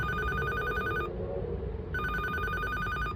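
A door intercom rings with a steady electronic tone, close and clear. It stops for about a second, then resumes, with low background rumble underneath.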